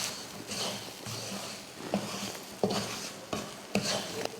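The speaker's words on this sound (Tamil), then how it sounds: "ரவையை சேர்த்துட்டு நல்லா கலந்து விட்டுருவோம்" Semolina being stirred into a masala in a pan for rava kichadi gives a soft, continuous scraping and shuffling, with several sharper spoon-against-pan knocks scattered through and a faint sizzle underneath.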